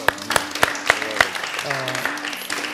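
An audience applauds at an Azerbaijani memorial event for national hero Chingiz Mustafayev: a few sharp, separate claps at first, thickening into a light patter, heard under someone speaking.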